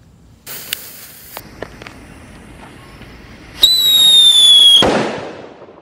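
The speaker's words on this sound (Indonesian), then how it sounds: "ini Whistling Thunder. Whistling Thunder, kita nyalakan." A Whistling Thunder firework is lit outdoors: a few small crackles and pops, then a loud, rising whistle holds for about a second before ending in a sharp, booming bang that decays away.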